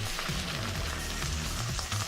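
Noodles sizzle steadily in a hot pan for steak and shrimp scampi, a constant frying hiss with faint stirring scrapes, close and even throughout.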